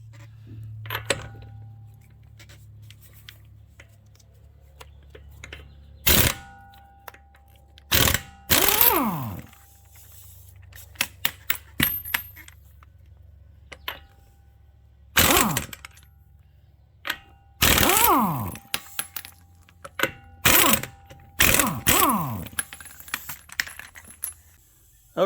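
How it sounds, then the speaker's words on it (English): Lug nuts come off the left front wheel of a jacked-up car in several loud bursts of ratcheting impact-tool clatter, broken by quiet pauses and a few metallic clinks, with no one speaking. "and now let's get that wheel off."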